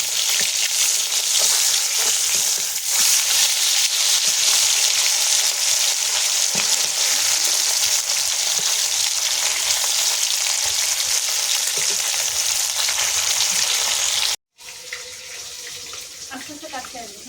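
Pieces of rui fish sizzle hard in hot mustard oil while being turned in the pan. A dense, continuous frying hiss runs close and loud, briefly cutting out near the end before resuming.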